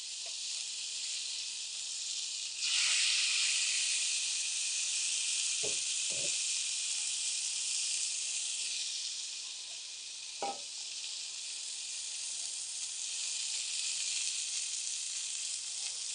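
Marinated wild boar chops seasoned with wild game seasoning sizzle on a hot grill, a steady bright hiss that flares louder early on, with a few brief thumps and knocks as the meat is handled.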